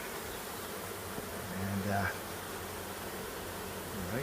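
Steady insect buzzing fills the background, a dense low hum of many bees around a hive, with a single brief spoken word near the middle.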